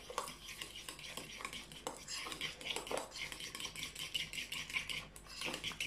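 Olive oil, cumin and coriander being stirred into guacamole in a bowl, with a rapid, continuous clinking and scraping of a utensil against the dish, close and busy, with pauses between bursts.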